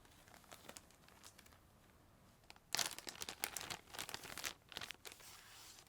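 A plastic bag holding papers crinkles and rustles close by, quiet at first and then louder and more continuous as it is handled.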